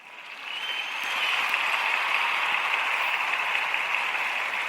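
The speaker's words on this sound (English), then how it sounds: "That deserves some claps." Clapping swells in over the first second, then holds as a steady, dense wash of applause on a Kansas City sports talk show.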